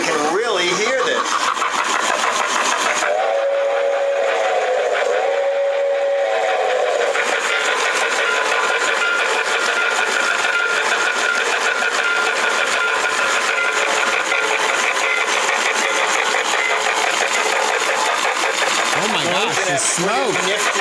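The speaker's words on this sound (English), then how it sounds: "It has electronic whistle, the sound of steam, puffing smoke, transformer" A model train runs with its electronic steam whistle and puffing steam effect, its top removed: a two-note whistle sounds twice early on, then a steady mechanical whir and chuffing hiss continue close by, with a voice now and then.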